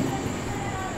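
Steady rumble of a train pulling through Yelahanka junction, a dense continuous roar of wheels and carriage noise heard close, from on board, with no pause or change across the moment.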